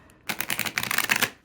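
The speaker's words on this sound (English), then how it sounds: "It still shuffles very nicely" A small 44-card oracle deck that has been rebacked, adding thickness, is riffle shuffled once, giving a quick close burst of crisp fluttering card snaps that lasts about a second, with no voice.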